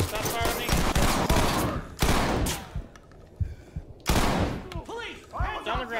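Heavy gunfire in the tactical shooter Ready or Not, with sharp, loud, close volleys of rapid shots in several bursts. A pause follows, then another burst, and voices shout briefly near the end.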